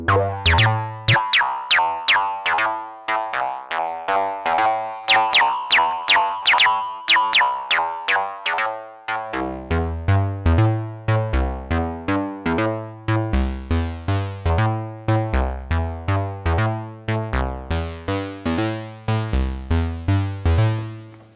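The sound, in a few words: IK Multimedia Uno Synth Pro X synthesizer with filter envelope changed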